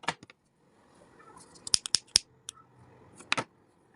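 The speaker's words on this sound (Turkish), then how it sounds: "şurada kesip yapıyoruz" Scissors snip through ribbon in a cherry lace craft, a handful of sharp, close cuts in quick succession, with light handling rustle between them and no talking.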